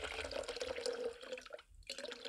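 Water poured from a bottle into a Silver Crest 1500 W electric kettle, a close trickling splash that runs steadily, breaks off briefly near the end, then resumes.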